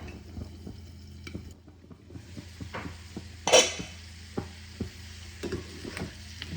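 Tomato masala for kadhai fish frying in a covered kadhai, with a low steady sizzle under soft stirring scrapes and a few light utensil clinks, one sharper clatter midway.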